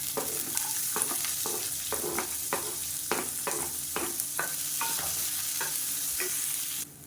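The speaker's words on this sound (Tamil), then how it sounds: "இப்போ வெங்காயம் ஓரளவுக்கு வதக்கிடுச்சு" Finely chopped small shallots sauté in a pan for a millet and drumstick-leaf adai batter, with a steady sizzle and repeated scraping stirs throughout, close and fairly loud.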